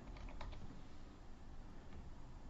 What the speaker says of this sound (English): And as I type that in, it's going to go ahead and start reading in the data into our new database